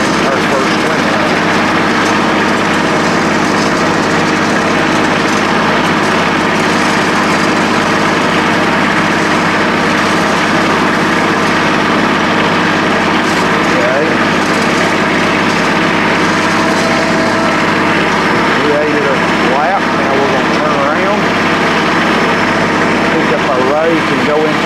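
A tractor pulls a Grizzly 4-wheel hay rake through first-cut hay, its engine droning steadily and loudly throughout with a continuous mechanical rumble and rattle.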